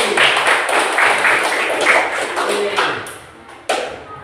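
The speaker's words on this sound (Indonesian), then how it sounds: "Oke, tepuk tangan untuk hati." A class applauds a student after a forward roll on the floor during a school gymnastics lesson, brisk clapping that fades out, followed by a sharp tap near the end.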